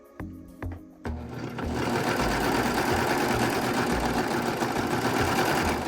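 A Brother 1034D serger sewing machine starts with a few clunking taps, then runs at a fast, steady, loud mechanical whir that continues without pause, close by and with no voices.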